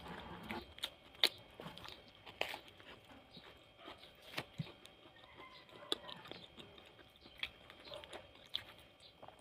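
Crunchy pan-toasted burger bun being chewed close to the mic, a quiet run of repeated crisp bites and crunches at an uneven rhythm, with faint murmured sounds between them.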